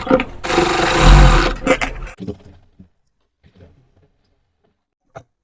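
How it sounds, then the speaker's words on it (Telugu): A sewing machine stitching the lining cloth of a double-layer girl's frock runs in a loud continuous burst for about two seconds, then stops, leaving a few faint handling clicks. "లైనింగ్ క్లాత్ని ఇలా బ్యాక్ సైడ్కి తిప్పేసేసుకొని పై వైపులా కుట్టేసేసుకోవాలి."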